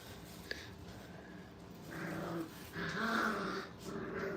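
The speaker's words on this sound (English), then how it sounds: "That's a little female right there doing all the barking." A little female puppy in a training kennel growls and yips, with playful whimpering barks and snuffling, fairly faint and close, with other puppy noises in the background.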